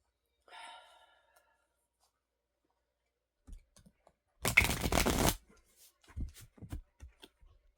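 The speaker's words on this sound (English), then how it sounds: "Pull one more card from the tarot." Tarot cards shuffled and drawn in one brisk, close riffle burst lasting about a second, framed by soft clicks and faint handling noises, with quiet breathy sounds before it.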